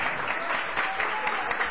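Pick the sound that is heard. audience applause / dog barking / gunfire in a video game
audience applause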